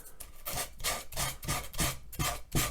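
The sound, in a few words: sanding a wooden furniture surface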